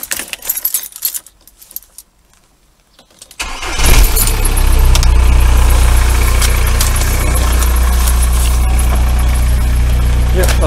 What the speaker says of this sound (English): I'm going to start the engine, put the lights on.